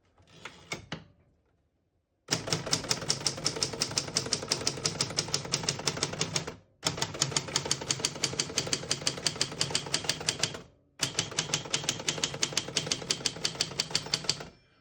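Rapid, crisp key strikes on a 1964 Adler J4 portable typewriter, typed in three long bursts separated by brief pauses, with clacking close and loud.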